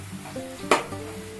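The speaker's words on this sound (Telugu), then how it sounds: "కొంచెం అల్లం పసుపు అనేది నూనెలో బాగా వేగినాక చిక్కుడుకాయలు వేసుకున్నాను." Boiled broad beans frying in oil with ginger and turmeric, a soft steady sizzle with a sharp spoon-against-pan clatter in the middle as they are stirred.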